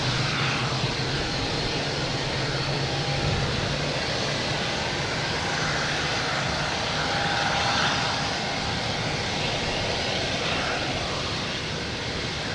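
A United Airlines Boeing 737 MAX 9 taking off from Boston Logan, a continuous, loud jet roar that holds steady and swells slightly midway, with no talking over it.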